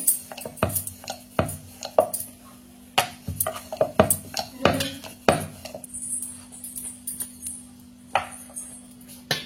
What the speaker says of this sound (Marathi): आता आपल्याला पातळ लाटून घ्यायचं आहे।